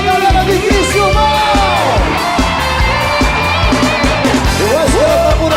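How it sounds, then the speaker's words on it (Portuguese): Football supporters' crowd from Criciúma shouting and cheering together, a loud, dense, continuous roar with rhythmic chant-like pulses throughout, heard as a broadcast snippet from southern Brazil. "Olha o grito da galera de Criciúma!"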